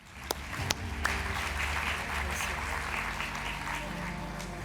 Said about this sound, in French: Sous vos applaudissements, bien évidemment.